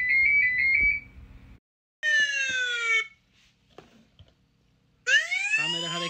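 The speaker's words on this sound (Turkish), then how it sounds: "algıladığında bu şekilde size sesli uyarı verir." A Yoosee YS-10 Pro security camera's motion-detection alarm sounds in three bursts of sweeping, warbling electronic siren tones, separated by short quiet gaps with faint clicks.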